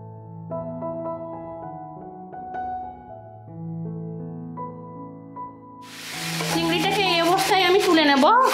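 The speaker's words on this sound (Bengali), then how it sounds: "এবার আমি চিংড়িটাকে এর মধ্যে ভেজে নেব।" Shrimp hits hot oil in a pan and starts a loud, steady sizzle and hiss. Tonal music plays before the sizzle and continues underneath it.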